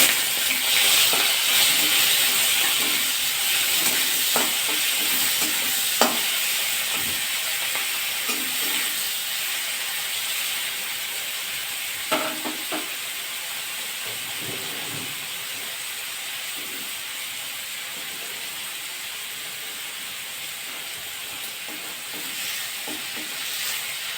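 Potato pieces frying in an oiled pan give off a loud, steady sizzling hiss with occasional crackles and stirring knocks, close by and with no talk.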